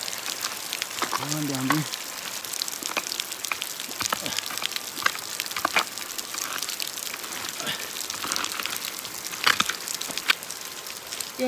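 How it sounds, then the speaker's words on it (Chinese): Heavy rain pours at night in a mountain village, a dense, steady hiss of drops on surfaces with occasional louder splatters; a person speaks briefly near the start. "这个雨下的真的跟线一样。"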